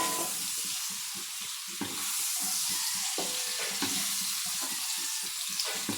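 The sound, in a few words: sautéing taro leaves in a pan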